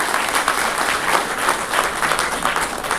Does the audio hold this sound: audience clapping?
yes